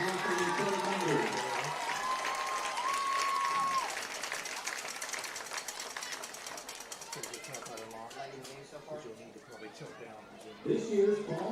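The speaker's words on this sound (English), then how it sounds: "Let's have a big round of applause for all of our 2025 Homecoming Club members" A homecoming crowd at a high school varsity football game applauds the Homecoming Club members, a moderate spread of clapping and cheering that gradually fades, with announcer-style talk and crowd chatter mixed in.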